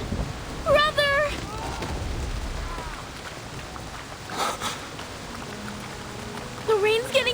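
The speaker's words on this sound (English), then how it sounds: "The rain's getting heavier!" Steady heavy rain from a video game storm hisses in the background with a low rumble, while voices call out over it now and then.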